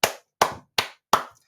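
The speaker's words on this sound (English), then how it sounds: "clapping" Four sharp hand claps, evenly spaced about a third of a second apart, loud and close with short decays and silence between them.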